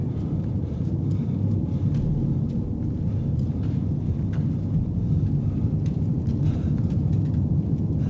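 Continuous deep rumble of a thunderstorm with rain in a radio drama, a steady low roar that stays loud and constant without voices.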